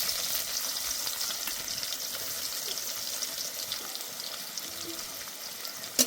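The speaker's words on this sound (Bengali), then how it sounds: "পেঁয়াজটা ভালো করে ভেজে নেব।" Finely chopped onion fries in a pan after whole cumin, a soft, steady sizzle heard up close with faint stirring and no voices.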